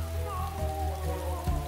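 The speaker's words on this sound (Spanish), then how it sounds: "¡La lluvia son las lágrimas del gato!" Cartoon rain falls in a steady, soft hiss of drops on a surface, with a sustained tonal background underneath.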